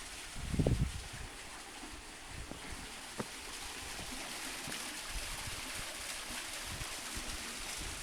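Running water from a stream in a rocky canyon on Mission Trails hiking terrain, a steady broadband wash with light wind, and a brief louder low rustle near the start.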